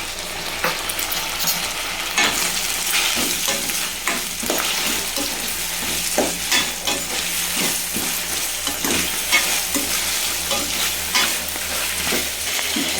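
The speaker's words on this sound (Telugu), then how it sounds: "ఇప్పుడు ఇందులోకి టమాటా యాడ్ చేసుకొని టమాటాని కూడా కొంచెం బాగా ఫ్రై చేసుకుందాం" Tomatoes frying with onions in a hot pan for a South Indian lentil-dumpling curry: a steady close sizzle with repeated scraping stirs of a spoon against the pan, and no voices.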